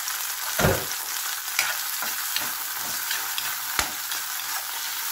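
Tomatoes sautéing in a hot pan as Ginisang Monggo with kamote and dried fish is cooked, a steady sizzle broken by a few sharp stirring scrapes and clanks, close and fairly loud with no talking.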